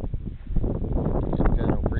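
Wind blowing outdoors at a drone test-flight field, buffeting the microphone in a dense continuous rush with gusty swells, near and loud, with faint speech mixed in.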